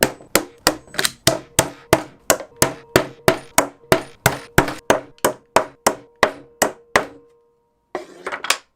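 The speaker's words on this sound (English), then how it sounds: "I will start them with the stapler and then finish them with a hammer." Steady hammer blows drive staples into wood while building a nightstand, about twenty sharp knocks in an even rhythm, close and loud, then a brief pause and some rustling.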